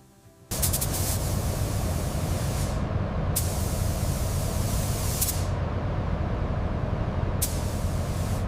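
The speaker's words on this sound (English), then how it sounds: "We're applying the high visibility lemon lime coating now." A spray gun lays high visibility lemon lime yellow gloss coating onto an Extreme SHERP Arctic Machine under restoration, bursting on into a loud continuous hiss punctuated by several brief sharp pulses as passes restart.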